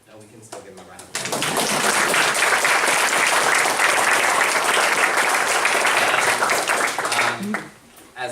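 An audience at a school district board meeting claps for school nurses, with loud, dense applause that starts suddenly and holds steady for about six seconds before fading, preceded by brief talk.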